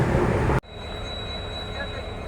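A train on the Western Ghats line from Sakleshpura to Mangalore nears a junction, its wheels squealing loudly before the roar cuts off sharply into a quieter rumble with a thin high whine.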